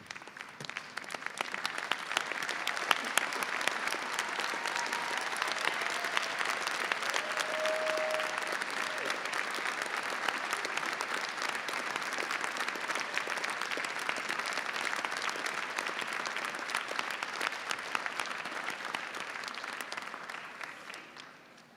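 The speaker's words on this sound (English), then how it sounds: "join me in giving our families and friends a well-deserved round of applause" Graduates at a university graduation ceremony stand and applaud their families and friends, producing a long, even wash of dense clapping from a large hall crowd that swells and holds steady before fading out.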